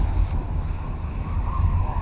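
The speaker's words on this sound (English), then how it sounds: "Very windy conditions here at Blyton." Strong wind at a rallycross event at Blyton roars and buffets steadily against the microphone, a loud, low, continuous rumble with no voices.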